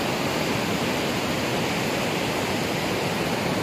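A waterfall in a natural setting pours in a dense, constant roar of broadband rushing water, loud and close with no pauses or voices.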